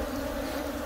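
Flying honey bees hum steadily around a freshly made split hive, a dense continuous buzz close to the listener with no breaks and no voices.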